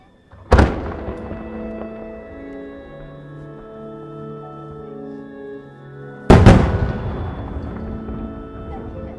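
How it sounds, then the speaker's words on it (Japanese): A chrysanthemum-style aerial firework at an autumn fireworks festival at Twin Ring Motegi gives two loud, sharp bursts several seconds apart, each followed by a long, fading crackling ring. "最後に咲き割りと呼ばれる音と光で締めくくる作品です"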